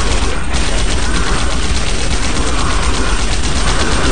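Rapid, dense gunfire from shooting aliens in the top-down game Alien Shooter pours out as a loud, unbroken clatter of overlapping shots that fills the whole clip.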